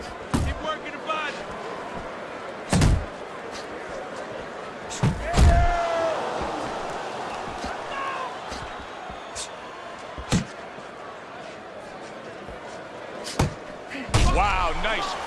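Punches landing in Fight Night Champion boxing, a few sharp isolated thuds spaced several seconds apart beneath steady crowd murmur and running commentary.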